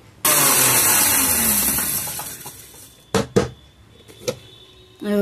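An electric kitchen mixer grinder starts with a loud whirring roar, runs for about two seconds and fades as it spins down, followed by a few sharp knocks and clatters.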